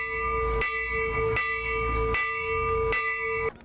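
Church bells toll in slow, regular strokes about once every three quarters of a second, resonant and ringing out over a steady hum, with no talking.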